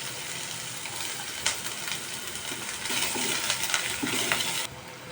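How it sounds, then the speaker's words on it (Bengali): Chopped onion goes into hot oil in a kadai, seasoned with bay leaf and dried chilli, for a black chana curry, giving a steady close sizzle and hiss with occasional clatters and a louder burst near the end. "তেল গরম হয়ে গেছে, পেঁয়াজ কুচিটা দিয়ে দেবো।"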